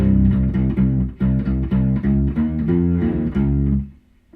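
A U-Bass plays a measure of a metal song, a run of plucked, sustained low notes in a tight rhythm with triplet figures. It sounds close and alone, and the last note decays at the end.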